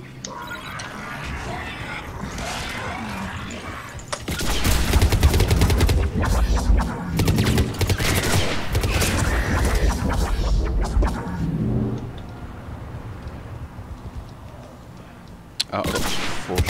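Rapid gunfire from the sci-fi shooter Mass Effect, bursts of shots and blasts crowding a loud middle stretch amid game noise, with a player talking over the action.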